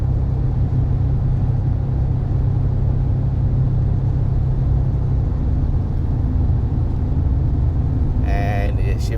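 A Ford Ranger Raptor pickup at full throttle gives a steady, loud low engine rumble that continues throughout, with a brief higher whine near the end.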